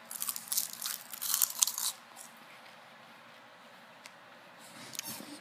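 Crunching on a folded, dry seaweed snack: a burst of crisp bites and crackles close to the mouth, quieter chewing, then a few more crunches at the end.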